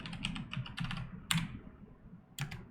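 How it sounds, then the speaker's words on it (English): Password typed on a computer keyboard: quick bursts of soft, close key clicks in uneven clusters, ending with a couple of sharper key strikes, likely the enter key, in a quiet room. "And then let me type in password."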